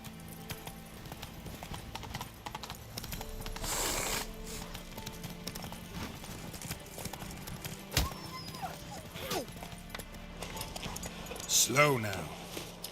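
Horse hooves clip-clopping steadily in The Witcher 3, close and continuous under game ambience, with a brief whinny near the end and a voice spurring the horse on.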